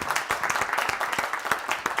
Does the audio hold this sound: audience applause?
yes